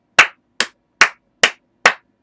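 Hand claps ringing out close and sharp, five evenly spaced claps in a quick steady rhythm with no other sound.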